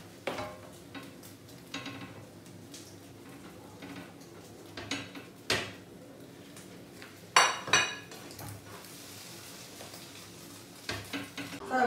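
Eggs and tuna cooking in a frying pan, with intermittent clinks and scrapes of a utensil against the pan over a faint sizzle, close by and without talk.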